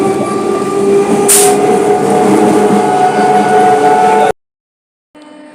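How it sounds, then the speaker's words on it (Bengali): Steady loud rumble of a passenger train riding on rails toward Tollygunge station, continuous rolling noise with a brief high squeal, then cutting to near silence and faint noise at the end. "ট্রেনে উঠে পড়েছি।"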